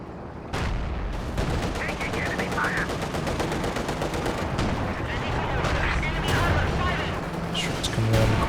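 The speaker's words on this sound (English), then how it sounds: "Shots coming around the corner as well." Video game Company of Heroes 2 with dense rapid gunfire and machine-gun bursts, loud rattling volleys and booms continuing throughout, with voices mixed in underneath.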